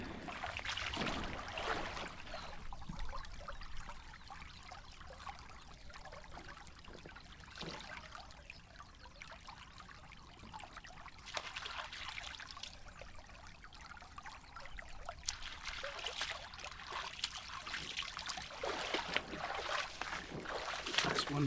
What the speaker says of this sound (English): So it's fast flowing, stony bottomed, clean water, nothing in industrial upstream